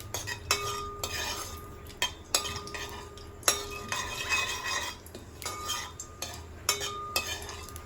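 A spoon stirs mutton curry in a metal pan, giving a steady series of scraping strokes and bright metallic clinks roughly every second, close and fairly quiet.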